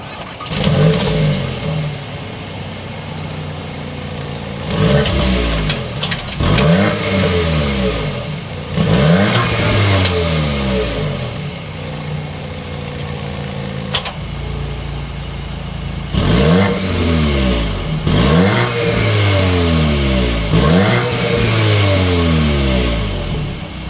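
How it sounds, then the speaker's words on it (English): A 2023 Audi S3's turbo four-cylinder engine starts and revs repeatedly, the exhaust rising and falling in loud bursts with idling between, close and uninterrupted by speech. "start it up so you can hear that exhaust note"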